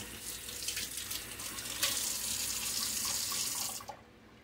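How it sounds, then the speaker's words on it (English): Tap water runs steadily into a sink as hands are rinsed, a close, fairly quiet hiss that holds for about four seconds and then cuts off, with no talking. "Rinse my hands off."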